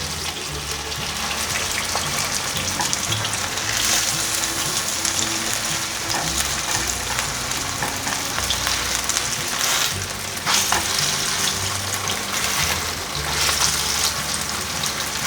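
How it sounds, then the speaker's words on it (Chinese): Tofu pan-frying in hot oil, a dense continuous sizzle and crackle held at close range for the whole stretch with no talk, only slight swells in intensity. "油热了，放进来煎。"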